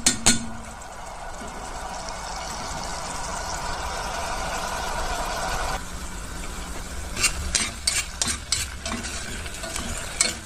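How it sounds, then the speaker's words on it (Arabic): Onions frying in a pan as a spoon stirs them, steady sizzling at first, then repeated sharp scraping clacks of the spoon against the pan near the end. "وهنبدا نقلب لحد ما البصله دي تبقى خلاص هتتحرق."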